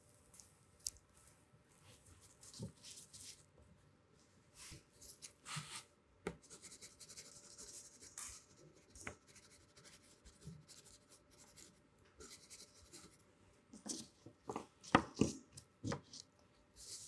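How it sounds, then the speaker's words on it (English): Pen or pencil scratches across paper in quick, irregular strokes and scribbles, faint and close, running steadily with brief pauses and a few sharper taps. "For this segment, we're gonna get into drawing."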